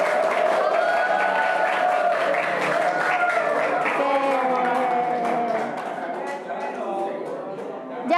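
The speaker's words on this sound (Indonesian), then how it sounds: "Jadi tepuk tangan untuk kelompok 1 dan 2 yang mendapat nilai 100." A classroom of students applauds groups 1 and 2, with steady dense clapping and crowd noise that keeps going and eases slightly toward the end.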